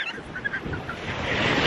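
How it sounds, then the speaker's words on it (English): Ocean surf at a Barbados beach, rough waves building into a heavier rolling wash toward the end, with wind buffeting the microphone and a few brief high calls over the churn. "Wow, these waves are vicious."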